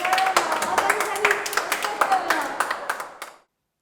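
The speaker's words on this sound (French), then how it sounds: "Oh, on peut vous applaudir." A small group claps in quick, irregular beats, close and fairly loud, then the clapping fades out and stops abruptly.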